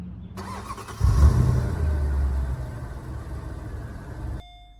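A Lingenfelter-modified 2010 Mercedes-Benz SL550 AMG Roadster starts up: a short starter whir, then the engine catches with a loud, deep rumbling burst that settles into a steady, throaty idle, close by with no talk.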